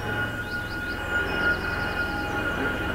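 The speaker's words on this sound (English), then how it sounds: "No, that's a helicopter." A police helicopter passes overhead as a steady, loud engine drone with a faint pulsing low thump, continuous throughout with no voices.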